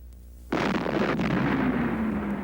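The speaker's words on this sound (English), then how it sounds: "In a fraction of a second, there will be millions of chemical bonds breaking and reforming to produce an explosion." A rock cliff blasted with four and a half tons of ammonium nitrate explosive: one sudden loud boom followed by a long, rumbling roar of falling debris that holds for a couple of seconds.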